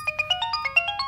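A mobile phone ringtone for an incoming call plays a quick run of about ten bright, chiming electronic beeps in a steady rhythm, close and clear with no talk.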